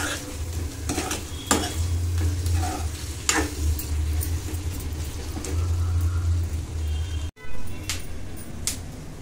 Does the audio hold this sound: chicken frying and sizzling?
yes